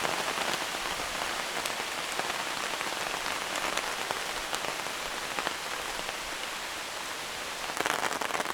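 Rain falls on a tent canopy overhead, a dense, even patter of drops with brief sharper taps, steady and close throughout with no talking.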